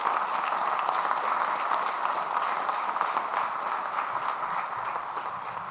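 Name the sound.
audience applause for the VIPs at a band concert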